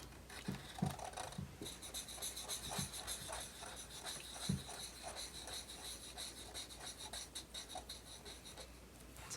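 A pencil or marker shading a solid black area on paper for a Paw Patrol Chase drawing lesson, giving a steady close scratchy rubbing with short rhythmic strokes and occasional soft taps, no talking.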